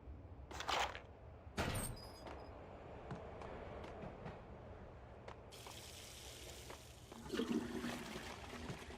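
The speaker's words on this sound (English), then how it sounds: "Flush it!" A toilet flushes in the video game Max Payne on PC, a loud rushing gush of water following a couple of sharp knocks, with hissing water noise carrying through the later seconds.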